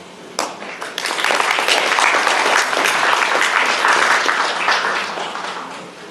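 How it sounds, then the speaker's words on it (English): Audience applause welcoming a speaker to the podium at an Asia Pacific Geoparks Network presentation, a broad sustained crowd clapping that builds quickly and holds steady for several seconds before easing slightly. "Please welcome him with a big round of applause."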